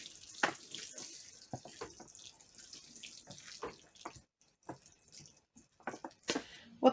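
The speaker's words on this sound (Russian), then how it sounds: "Обильно полью. Вода у меня" Seedlings being watered generously with room-temperature water, soft, quiet splashing and trickling in irregular spurts with drips between them.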